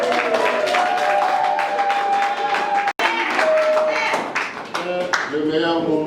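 Applause and clapping from guests at a civil wedding ceremony, a dense, lively patter that fills the room. Voices talk and exclaim over it, and the clapping stays loud and continuous with one brief break.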